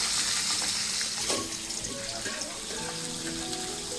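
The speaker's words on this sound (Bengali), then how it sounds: "আলুগুলা ভেজে নিচ্ছি।" Potatoes fry in hot oil with panch phoron and bay leaf, a loud, steady, bright sizzle that spikes at the start and then settles into a constant crackling hiss.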